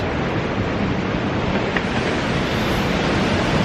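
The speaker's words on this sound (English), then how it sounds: "And these waves are crashing in." Ocean waves crash onto a shore in a steady, loud, close wash of surf that fills the whole stretch without a break.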